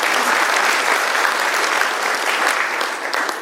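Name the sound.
conference audience applause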